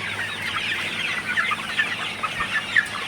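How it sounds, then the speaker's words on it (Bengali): Sonali super hybrid chickens cluck steadily as they eat their feed in the morning, a soft continuous flock chatter with a few brighter calls standing out, no talking. "মুরগিকে আমি খাবার দিয়ে দিলাম আপনারা দেখতে পাচ্ছেন মুরগিগুলা খাইতেছে"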